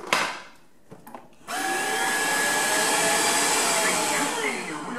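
A Tineco Floor One S3 cordless wet-dry vacuum cleaner starts up in auto mode after a few brief clicks, then runs with a loud, steady motor whine that holds to the end.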